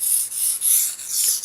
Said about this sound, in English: So you keep on sharpening away, kilting the tip in, getting that tip sharpened up